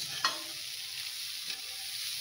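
Cauliflower samosa filling stirred in a hot pan, a steady soft sizzle with two brief scraping clicks of the spoon, close and without talk.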